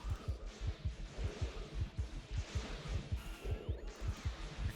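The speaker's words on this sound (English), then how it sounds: "I can strongly hear my heartbeat in my ears." A steady, thudding heartbeat pulses through a tense Factorio game, close and insistent, its low double beats repeating evenly over about five seconds beneath a faint hiss of game ambience.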